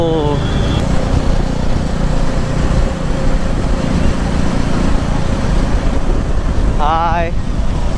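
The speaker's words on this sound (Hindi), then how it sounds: "भाई, इधर का ट्रैफिक बहुत खतरनाक है।" Traffic on a ring road is heard from a KTM Duke 390 motorcycle as a constant loud roar of engine and wind. Horn blasts sound near the start and again near the end.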